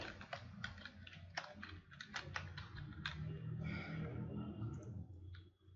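Quick clattering keystrokes on a computer keyboard as a short word is typed, a burst of close clicks over a low room hum, easing into lighter scattered taps.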